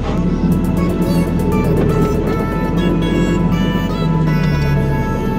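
A Suzuki Swift race car lapping a track, its engine droning loud and steady with clear harmonic whine, pitch shifting slightly as it works through the lap, heard from on board with no talk.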